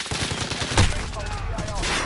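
Pistol gunfire from Call of Duty on PS5, a dense burst of sharp in-game shots with one louder crack near the middle, over continuous game sound.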